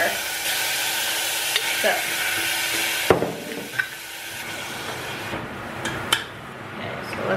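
Kimchi frying in a pan with a steady sizzle and scattered clinks and scrapes of a utensil stirring it, close by, while a voice briefly speaks over it.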